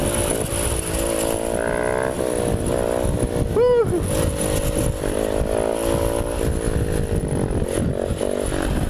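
Honda CBR 1000 and Yamaha R6 sport motorcycles revving loudly nearby, with rising and falling engine pitch over a constant roar, mixed with wind noise and people talking.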